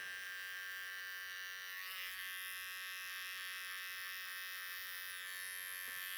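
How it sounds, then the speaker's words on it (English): An electric hair trimmer buzzes steadily at close range while tidying hair around the ear, a continuous high-pitched whine with slight shifts as it moves. "I'm just going to grab my trimmer real quick"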